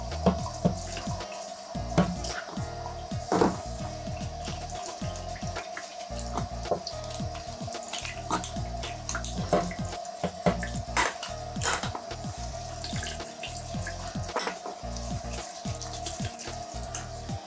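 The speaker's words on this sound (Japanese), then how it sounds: "シャワーですすいでいきます" Shower water runs steadily while rinsing a bathtub drain hole and the drain opening after cleaning with Domestos, a constant hiss with scattered splashes and drips.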